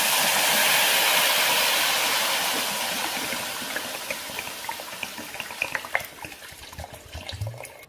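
Water poured from a vessel into a hot pan of fried rice for chicken biryani gives a loud rushing splash that tapers off, followed by a bubbling sizzle and clinks.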